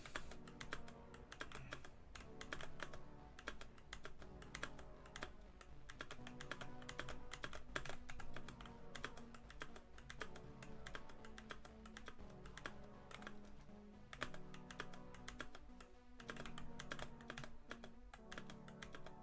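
Rapid, continuous clatter of key presses on a new computer keyboard, close and steady throughout, with dense irregular clicks and no voices.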